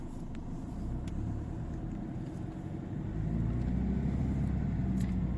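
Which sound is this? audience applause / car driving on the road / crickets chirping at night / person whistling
car driving on the road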